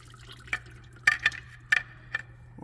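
Coolant drips into a bucket during a heating repair, a handful of sharp, close drips spaced unevenly over a low steady hum, with a brief rising noise at the end.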